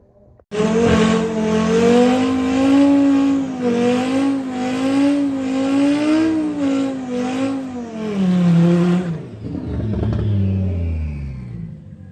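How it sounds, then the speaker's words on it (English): Drag race at Santa Pod between a 5-cylinder Audi RS3 and a 20-valve turbo VW Polo GTI: loud, close engines rev and climb through gears with a wavering roar, then cut off abruptly near the end. "it's going to be Dave Henderson with the 5-cylinder RS3 taking on Paul Jordan with the 20 valve turbo Polo GTI"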